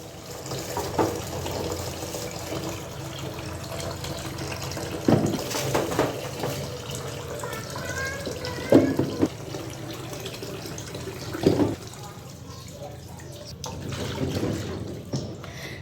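Tap water runs into a kitchen sink to soak eggs before washing them, a steady wash of flow with a few louder splashes and knocks, close and without talk.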